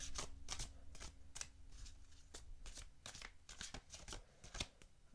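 A slippery oracle card deck is shuffled by hand in a quick run of crisp, fluttering riffles and taps, close and quiet, with no talking.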